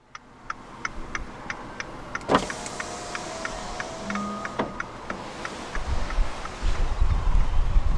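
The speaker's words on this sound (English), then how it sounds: "roll down the driver's side window" The driver's power window of a 2014 Fiat 500S glides down with a steady motor hum, preceded and accompanied by rhythmic ticking clicks inside the cabin.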